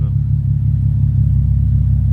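Custom twin-turbo Nissan 370Z idling on a cold start through its custom exhaust, a loud, steady, deep low rumble with an even pulsing throb, close up and continuous.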